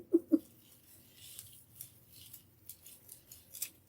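Scissors snipping through deco mesh while trimming a Mardi Gras mask wreath: two crisp, close cuts right at the start, followed by faint rustling of the mesh.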